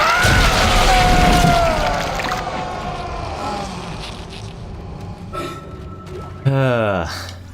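Explosives go off against Guardians in Dead Space, a booming blast amid chaotic game noise, then a second sharp burst with a ringing, sweeping tone near the end.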